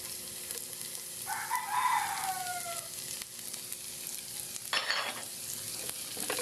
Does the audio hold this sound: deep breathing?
no